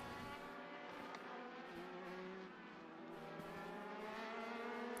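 Legend race cars circling a road course at New Hampshire Motor Speedway, a steady layered engine drone with several motors buzzing at once, heard from a distance and fairly faint, with no talk over it.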